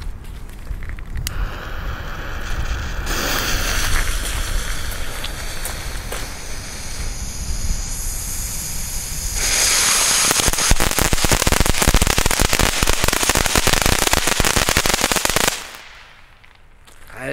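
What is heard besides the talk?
Leslie Fire Dice youth fireworks going off loudly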